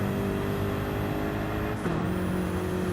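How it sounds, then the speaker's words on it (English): A BMW GT3 race car from a racing game drones steadily with a turbocharged engine tone, a constant loud mechanical hum that shifts pitch briefly near the end as it changes gear. "Hear the great big turbos of this BMW"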